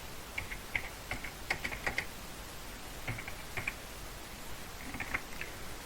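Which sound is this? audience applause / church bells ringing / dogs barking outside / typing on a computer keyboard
typing on a computer keyboard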